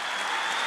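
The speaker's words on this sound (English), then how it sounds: "clap hands for yourselves" Brief burst of steady applause from a comedy show audience, dense clapping filling the moment with no voices over it.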